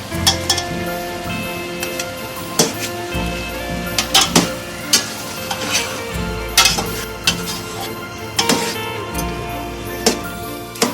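Chopped tomatoes added to a chicken stew sizzling in a pot with whole spices, bright metal clanks and spoon scrapes punctuating a continuous sizzle, close and fairly loud with no speech.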